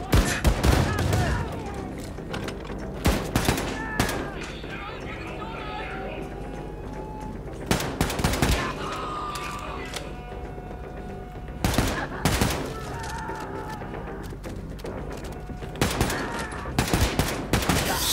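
Repeated bursts of gunfire from the video game Wolfenstein II: The New Colossus, loud volleys recurring every few seconds over a steady game soundscape, with someone talking between and over the shots.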